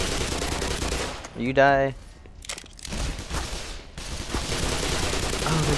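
Gunfire in the Black Mesa shooter as military troops attack, rapid bursts of automatic fire and shots spread across the clip, loud and close, with a brief spoken line and game voice partly over them.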